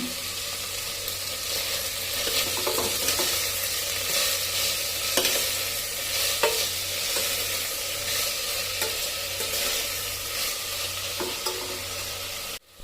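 Rice bath ingredients stir-fry in a pan with a loud, continuous sizzle and repeated scraping strokes from a spatula, close by and with no talking.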